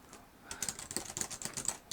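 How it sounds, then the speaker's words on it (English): Quick, uneven keystrokes clatter on the Lenovo Yoga Tab 13's Bluetooth keyboard, a steady run of light, close taps with no voice over them. "I don't know what the hell I'm typing."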